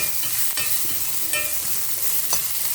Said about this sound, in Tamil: இந்த வெங்காயம் வதங்கும்.